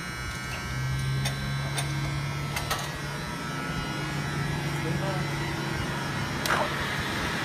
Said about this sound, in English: He's running the spindle.